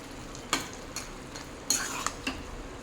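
A spoon stirs fried neem leaves through a pan on a low flame, making a few soft scraping strokes and light clinks over a faint, quiet sizzle.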